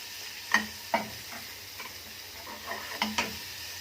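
Garlic frying in oil until golden makes a quiet, close sizzle broken by several sharp clicks and taps of a spoon against the pot, with no voices.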